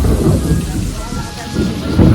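Heavy monsoon rain pours down with a deep rolling rumble of thunder during an Ashadh-season storm, loud and close, filling the whole stretch without any voices.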